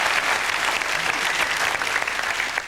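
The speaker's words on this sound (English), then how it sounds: "thank you for the mercy applause" Studio audience applause during a late-night television monologue, a dense steady wash of clapping that fills the whole stretch at even loudness.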